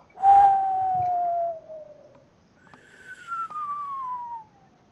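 A person whistles into a microphone to imitate wind moving through trees, producing two long, sliding tones that each fall slowly in pitch, the first louder and the second fainter and higher.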